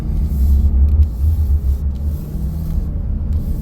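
A truck with a 68RFE automatic transmission pulls away in first gear with a steady, close, heavy low rumble of engine and drivetrain, and no other sounds.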